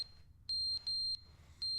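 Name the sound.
smoke detector beeping in video game The Stanley Parable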